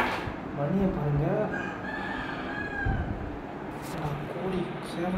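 A rooster crows at midnight outside a home, a drawn-out rising and falling cock-a-doodle-doo with clucking fowl nearby, while a voice talks over the calls.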